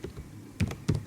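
Computer keyboard keys tapped while writing code, a few close, crisp clacks in two quick clusters with quiet gaps between, no voice.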